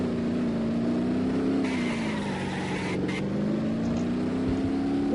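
Damaged car driving in BeamNG.drive, a steady engine drone holding at one pitch and grinding on without a break, loud and close, with brief brighter noise bursts partway through.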